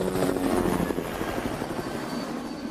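Helicopter registered EG-2206 flying low, a steady loud rotor thump and engine roar continuous and near throughout, no voices.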